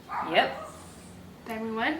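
Dogs bark twice in the background, a sharp yelp followed by a drawn-out, whining bark, while a person speaks over them.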